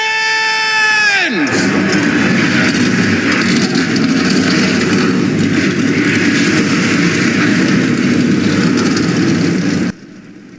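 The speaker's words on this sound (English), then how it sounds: "Engines are fired, cars are rolling off here from the Iowa Speedway" Race car engines in a NASCAR-style oval racing game at Iowa Speedway fire up and settle into a loud, dense, sustained roar of many idling engines together, lasting most of the clip before cutting off abruptly near the end.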